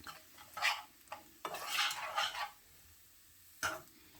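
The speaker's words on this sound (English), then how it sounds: "All these are my vegetables, and I'm gonna just stir fry them" Vegetables stir-fried in a pan for a curry prawn dish, with a few short bursts of scraping and clinking from the utensil against the pan, separated by quiet gaps.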